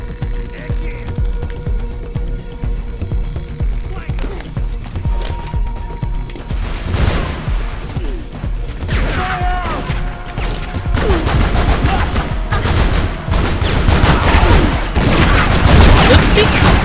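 Rapid gunfire echoes through a Tomb Raider: Legend game scene as repeated shots crackle over a loud, dense mix of rumbling game ambience and effects, growing busier toward the end.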